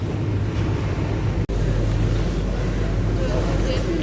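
Water and engine rumble aboard the Staten Island Ferry crossing from Whitehall Terminal, a steady low wash of waves and hull noise with a brief dropout partway through.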